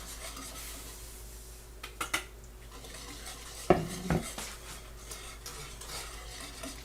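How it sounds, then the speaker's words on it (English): Tomato jelly with sugar being stirred in a pot, quiet background hiss broken by a few scattered spoon scrapes and one louder clattering knock against the pot, close, no talking. "make sure you stir it so that it doesn't stick to the bottom and burn"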